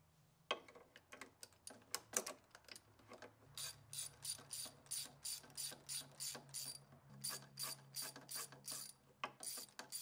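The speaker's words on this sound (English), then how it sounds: "you'll be able to tell when I'm loosening it with the ratchet" A hand ratchet clicks in a rapid, even series of bursts while loosening the thermostat bolt on a Chevy Colorado V6, each stroke a crisp metallic ratcheting close up with short pauses between pulls.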